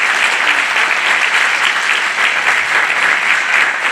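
An audience at a neighbourhood community event in Vernier claps loudly and steadily for the evening's two hosts, dense sustained applause that fills the room without a break.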